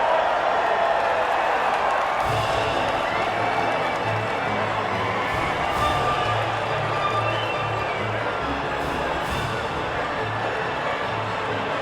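A crowd cheering at the podium in F1 2019, heard as a dense, constant roar of cheers and applause with some whoops that stays loud and unbroken from start to finish.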